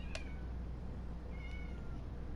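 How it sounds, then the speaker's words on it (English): A pet cat meows twice, short separate calls against a steady low hum in a quiet room, no talking. "my cat is meowing at a box"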